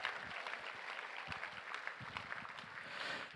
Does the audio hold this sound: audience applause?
yes